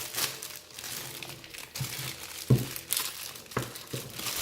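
Plastic wrapping crinkles and crackles as a laptop charger and its cables are unwrapped, close and irregular with a few sharper rustles.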